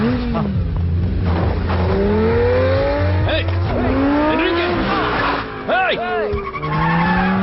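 Tires screech and skid loudly as car engines rev and roar past in a chase after a Lamborghini, rising and falling wails over a rumbling motor, with voices mixed in.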